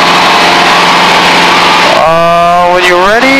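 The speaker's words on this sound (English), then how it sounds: "I'll go around because the engine came back to life" A light training airplane's engine drones steadily, then surges back to life, its rising tones climbing as power builds, loud and continuous with no talk.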